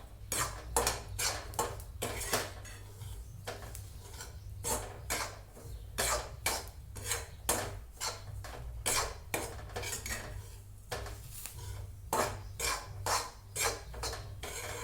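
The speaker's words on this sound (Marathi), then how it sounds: "आता फिरवायचं. कमी वेग करते. आता मस्त भाजत आहे रवा." Semolina for upma roasting in a pan, stirred steadily so a spoon scrapes and clinks against the metal in a fast, continuous rhythm, close and fairly loud throughout.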